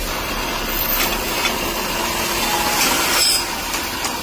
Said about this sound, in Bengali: পালিশ হয়ে গেলে আমরা সেই শীটটিকে একটি মেশিনের মধ্যে লাগিয়ে এতে হ্যান্ডেল বসানোর জন্য দুটি করে ফুটো করে নেব